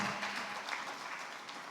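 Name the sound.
audience applause for the minister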